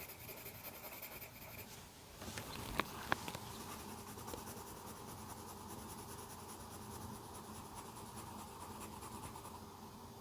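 Pencil drawing on paper while sketching a koala, a steady soft scratching and rubbing across the whole stretch with a couple of sharper taps near the start, close and fairly quiet.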